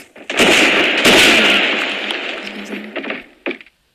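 A grenade launcher fires in a video game, giving a loud, close burst with a rumbling blast that fades over a few seconds, then a short sharp pop near the end.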